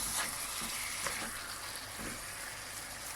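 Meat frying with softened onion in a pot, a steady dense sizzle close up with faint stirring scrapes throughout, no talk.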